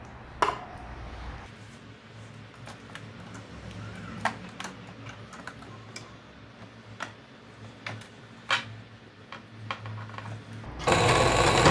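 A sewing machine stitches a tailored flared skirt lining in quick bursts with sharp ticking clicks between runs, ending in a louder rush of noise.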